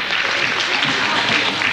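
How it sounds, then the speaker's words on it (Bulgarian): Applause from an audience at a children's show, a dense burst of clapping throughout, loud and close. "ръкопляскайте му, както се ръкопляска на човек от"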